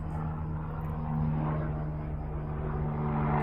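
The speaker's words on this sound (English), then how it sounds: "there's a helicopter, like, literally flying right over" A helicopter flies right overhead, a steady low engine and rotor drone at moderate, even loudness with no distinct blade chop, no talking.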